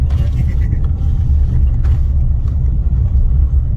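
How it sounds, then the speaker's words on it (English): A small car's engine drones and rumbles steadily as it speeds ahead on a road, a close, continuous low roar with faint talk underneath. "Yeah, the small car seems to have sped ahead."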